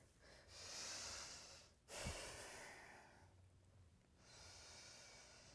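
Breathing during a yoga exercise: two long, airy breaths close to the mic, one drawn in and then a slower release, with a brief snort-like catch between them and no talking.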